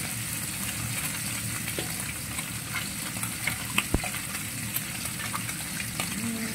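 Fish frying in a cooking pan, a steady close sizzle and crackle running throughout, with a few sharper pops and spatters near the middle.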